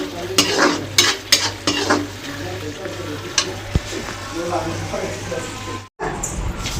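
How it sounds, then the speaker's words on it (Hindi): Tomatoes frying in hot oil in a home kitchen while making bhaji, with a steady sizzle, intermittent stirring scrapes and clicks, and people talking over it throughout. "और इतनी टमाटर भुजा के बाद"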